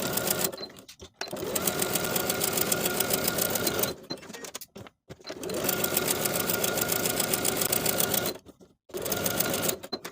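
A sewing machine stitches the short end of a linen tie belt for paperbag-waist shorts, running in steady close bursts of several seconds each, broken by brief pauses.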